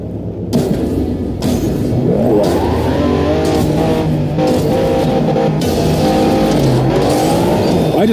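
Race car engine in the Asphalt racing game, revving loudly and close with rising and falling pitch sweeps as it climbs through gears and shifts, continuous throughout with no talk.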